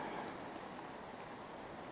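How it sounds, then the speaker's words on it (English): Steady rain patters on a tarp shelter up in the mountains, a soft, even hiss of drops with no pauses, faint and continuous throughout. "It started raining again up in the mountains"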